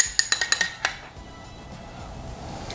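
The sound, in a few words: breaking and mixing egg yolk in a bowl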